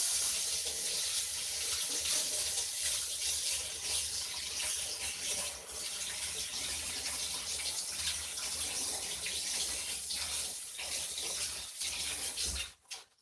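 Fresh rosemary rinsed under a running kitchen tap, a steady close hiss of flowing water splashing into the sink for about twelve seconds before it cuts off abruptly at the end.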